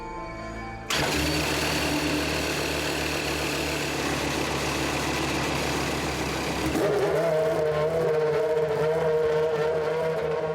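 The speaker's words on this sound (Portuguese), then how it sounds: "Quando o motor dá a partida, ele fica em marcha lenta." A Formula 1 race car engine with no onboard starter fires up abruptly after a near-silent moment, then settles into a loud, steady idle whose tone shifts and smooths toward the end; close and continuous, with no talking.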